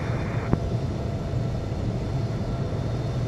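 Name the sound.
airliner taxiing to runway in Infinite Flight video game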